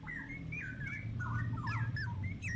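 Straw-headed bulbul (cucak rowo) sunbathing in morning sun, giving repeated liquid whistled chirps and warbling phrases, close and fairly clear over a low steady background rumble.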